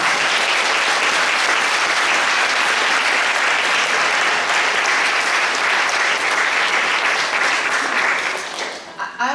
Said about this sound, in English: Could we please give a round of applause to the entire panel?